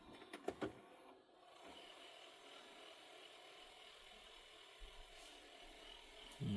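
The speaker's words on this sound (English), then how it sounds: "And a high speed fast forward." A Samsung DVD-V3500 DVD-VHS combo VCR runs a tape in high speed fast forward, a faint steady mechanical whir with a few light clicks at the start and a soft thunk at the end.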